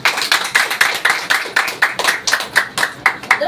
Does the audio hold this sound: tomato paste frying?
no